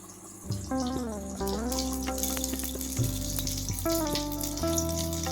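Spoonfuls of fermented vellaiappam batter drop into hot oil in a Madurai-style home kitchen, setting off a steady bubbling sizzle that swells and resettles with each addition; no voices.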